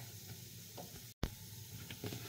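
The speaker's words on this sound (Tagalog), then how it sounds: "Haluin lang natin mabuti." Flour dough with water and butter being stirred in a bowl, a soft wet scraping and slapping that runs steadily and close up, with one short dropout partway through.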